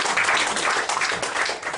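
Live comedy mind-reading show audience breaking into a round of applause, loud, dense clapping filling the room without a break and with no talk over it.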